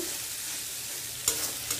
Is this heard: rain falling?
no